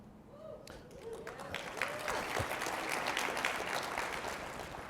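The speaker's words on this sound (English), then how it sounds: "Give yourselves a round of applause" An audience at a small business finance forum's opening plenary breaks into a round of applause that builds from scattered claps into dense, steady clapping filling the hall, with some voices beneath.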